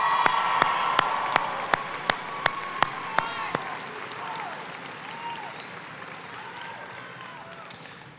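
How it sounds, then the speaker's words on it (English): Sparse, evenly spaced hand claps ring out for a few seconds from a graduation convocation audience honoring family nurse practitioner graduates, then fade into a quiet room murmur. "Let's give them a quick round of applause."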